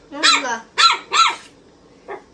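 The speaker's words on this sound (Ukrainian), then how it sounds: "Чого ти гавкаєш?" A dog barks three times in quick succession, loud and close, then gives one softer, shorter bark after a pause.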